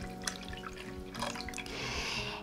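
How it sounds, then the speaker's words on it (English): About a cup of milk poured into a pot with butter and salt for instant mashed potatoes, a faint trickling liquid sound that gets a bit louder and steadier toward the end, with no talk. "Next, I'm going to go ahead and add about a cup of milk"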